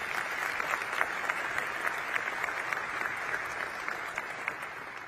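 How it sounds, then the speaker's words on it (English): Dinner guests at an advocacy awards banquet applaud the chef for the food, a steady round of many hands clapping at moderate, even volume from start to finish with no talk. "yes, do give him a round of applause for the delicious food."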